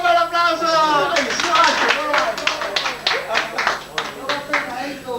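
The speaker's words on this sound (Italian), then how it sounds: "È un bel applauso!" A television studio audience on an Italian game show bursts into applause, a short round of clapping that thins into scattered claps while a host keeps talking over it.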